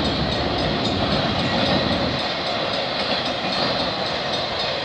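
A CP westbound freight train hauling auto racks rolls steadily past close by, with dense, continuous wheel and car rumble throughout and no talk.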